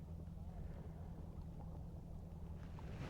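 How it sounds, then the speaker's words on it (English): A boat's engine rumbles low and steady on the water, fairly distant, with buffeting wind noise over the microphone throughout. "We've got a boat passing by here."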